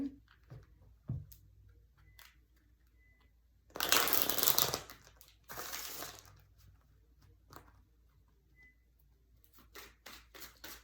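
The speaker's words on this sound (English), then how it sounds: "I'm gonna do one more shuffle." Tarot cards are shuffled by hand in two quick riffling bursts, crisp and close, followed by softer card taps and handling noises in an otherwise quiet room.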